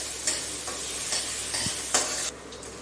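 A small chopped onion frying and being stirred in a pan, a soft continuous sizzle broken by a few sharp scraping strokes of the spoon, fairly quiet with no voices.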